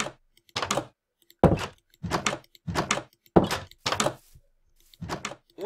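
Doors in the Minecraft video game open and close over and over, making about eight wooden thunks at a quick, fairly even pace, each one close and loud with short silences between them.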